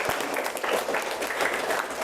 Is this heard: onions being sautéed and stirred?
no